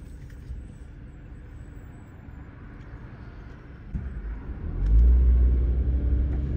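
Street traffic in Paterson comes through an open car window at an intersection, a steady near rumble of passing cars that swells louder as a vehicle accelerates close by, with no talking.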